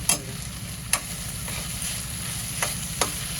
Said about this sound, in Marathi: ते सोडे छान परतून झालेत बघा सोडे